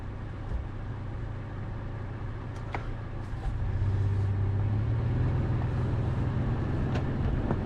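A Toyota FJ Cruiser crawls off-road in low gear with the diff lock engaged on a Utah trail. A low, steady engine drone rises in strength partway through, with a few faint knocks and creaks over it.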